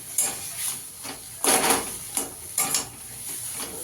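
Mashed gathi kochu (taro) stirred and fried in a pan for a vegetarian mash, giving a steady soft sizzle broken by several scraping stirs at irregular intervals, fairly close and moderate in volume, with no talking.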